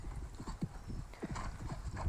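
A horse's hooves clip-clop in a steady, rhythmic beat during a jumping session, faint and a little distant, with no talk.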